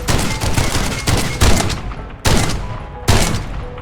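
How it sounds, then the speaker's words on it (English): A custom ten-barrel ricochet multi-shotgun in Mothergunship unloads in four loud, dense volleys, each a crackling wall of overlapping blasts that slowly fades before the next hits. "Here's my 10 barrels of ricochet death creation."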